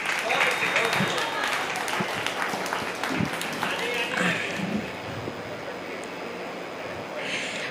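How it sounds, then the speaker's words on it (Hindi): At a Hindi poetry recital stage, an audience claps for poet Tusha Sharma, a steady wash of applause that thins after about five seconds, with some voices mixed in. "जोरदार तालियां बहन तुषा शर्मा जी के लिए"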